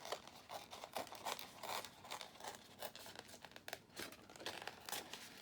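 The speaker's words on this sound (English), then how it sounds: "all I did was kind of just tear it out." Printed paper picture torn out by hand for an ephemera craft cluster, a close, steady run of dry ripping and crinkling with short bursts, alone without talk.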